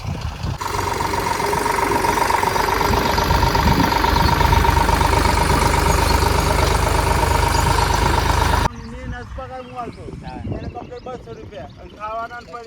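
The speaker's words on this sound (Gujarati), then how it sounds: "જો ટ્રેક્ટર તો આવી ગયું છે મફળી પહેરવા માટે." A tractor engine runs close by on a village farm field, giving a loud, steady rumbling drone for most of the clip before it cuts off sharply, after which a person talks.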